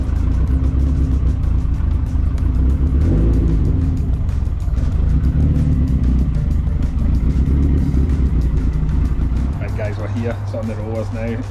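SR20DET-engined Ford Anglia on a rolling road dyno: a loud, sustained engine drone and rumble with revving swells, easing to a lower idle near the end, with talking over it.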